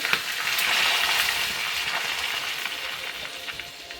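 Curry leaves hit hot ghee in a tempering with asafoetida, garlic and ginger-garlic paste: a loud burst of bright crackling sizzle that settles into a steady hiss with scattered pops, close and alone.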